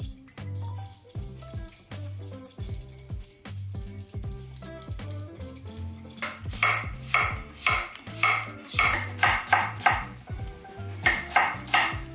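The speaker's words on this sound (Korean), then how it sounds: "이렇게 감자를 썰어 주시고요." Steady rhythmic knife chopping of potatoes on a cutting board for potato soup, the blade strikes growing denser and sharper in the second half, heard alone over a sustained tonal background.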